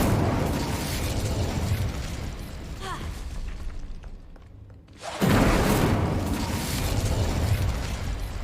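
Incendio fire spell cast in Hogwarts Legacy, a dense roaring whoosh of flame and crackling bursts that fills the scene, dips briefly, then surges back loud and sustained with no voices.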